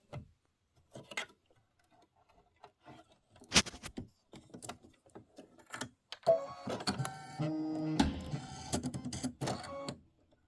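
An embroidery machine stitches a Kimberbell Thanksgiving pillow design, starting with scattered clicks and taps, then breaking into a dense, rapid mechanical chatter that runs steadily through the last few seconds.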